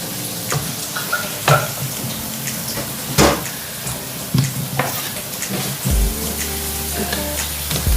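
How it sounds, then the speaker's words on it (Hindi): Potato pieces frying in a pan of spinach for aloo palak curry, with a steady sizzle, scattered stirring knocks and clatter, and a louder utensil scrape near the end. "अब हमने इसको यहाँ पे आलू डालने इसके अंदर।"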